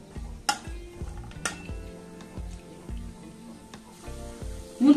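Cashews fry in ghee in a pan while a spoon stirs them, giving a soft, faint sizzle broken by several distinct clinks and scrapes of metal, close by and without talk.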